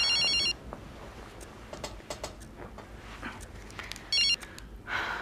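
A phone rings twice in short electronic trilling bursts, separated by quiet clicks and shuffling; no one speaks.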